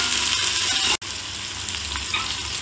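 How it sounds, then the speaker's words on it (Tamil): Three large onions, sliced lengthwise, fry steadily in a pan for mutton dum biryani, giving a dense, even sizzle with a brief break partway through and no talking. "இது ஒரு பொன்னிறமா நல்ல ஃப்ரை ஆகுறது வரைக்கும் நம்ம ஃப்ரை பண்ணி எடுக்க போறோம்"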